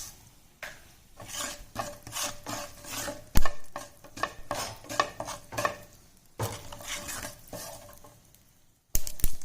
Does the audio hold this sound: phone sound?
no